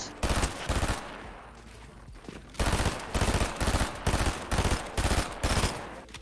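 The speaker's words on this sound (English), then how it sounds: "I can shoot through the walls." Rapid bursts of gunfire in a video game as a player shoots through walls, loud clustered volleys repeating in a steady rhythm after a short lull.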